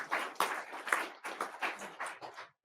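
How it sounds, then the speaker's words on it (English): A short burst of clapping from a small audience, quick irregular claps, fairly quiet and close, fading out at the end. "let's give our panelists here a round of applause"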